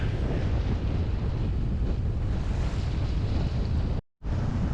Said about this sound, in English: the wind's blowing from the north, which is off the land. So just choppy, small choppy waves.